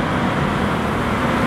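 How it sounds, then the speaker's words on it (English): A semi-truck passes on a road in a small hometown, a loud, steady roar of engine and tyre noise, close and continuous. "Semi-truck. Yeah. Common sound."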